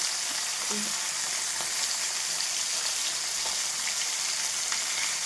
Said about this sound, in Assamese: এইফালে আৰু এইখিনি মাছখিনি ভাজি আছোঁ।